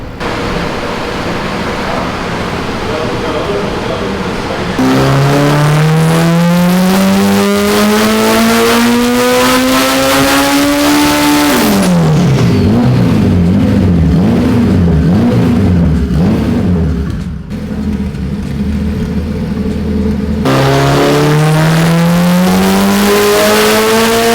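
A turbocharged Honda engine screams on a dyno, climbing in repeated loud wide-open pulls with rising pitch, dropping off between runs before winding up again, close and sustained.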